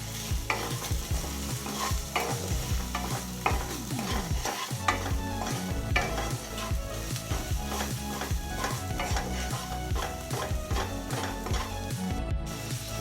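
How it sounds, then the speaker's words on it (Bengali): Ginger garlic paste with turmeric, chili powder, coriander powder and salt stirred and sizzling in a pan, a steady fry hiss broken by repeated scraping strokes of a spatula, close and continuous with no talk. "সামান্য আদা রসুনের পেস্ট দিয়ে সামান্য হলুদ গুঁড়ো, লঙ্কা গুঁড়ো, ধনে গুঁড়ো আর নুন দিয়ে নাড়িয়ে নেব"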